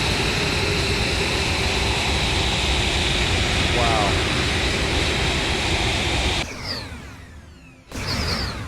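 A jet engine on a player-built plane in a building game roars as a steady, loud, broadband rush. It cuts out briefly near the end and then resumes, with no talking over it.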